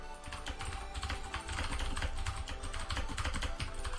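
A computer keyboard rattles with fast, continuous typing of a chat message during a HEX trading card game stream, close and busy with no voices over it.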